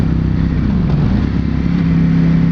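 A 2021 Ducati Panigale V4S on a test ride, its engine a loud, continuous droning roar that holds steady under hard acceleration, with wind rush over it and no talk.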